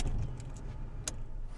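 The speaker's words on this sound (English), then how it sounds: "Now what you hear in the background is all the traffic" Steady road traffic passes in the background, a continuous low rumble of cars driving by with a brief brighter whoosh midway, heard outdoors at moderate level with no talking.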